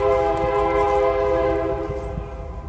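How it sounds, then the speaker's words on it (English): A train passes right beside a campsite, sounding a loud sustained horn over heavy rumbling rail noise that fades slightly toward the end, heard up close and without talk. "Told you the campsite's right next to a train."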